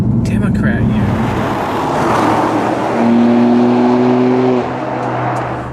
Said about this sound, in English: Here we are doing our 0 to 60 test.